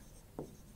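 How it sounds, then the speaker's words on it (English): A pen writing on paper while working out a school geometry problem, heard as one short, faint scratch of a stroke against a quiet room. "I am going to write the information"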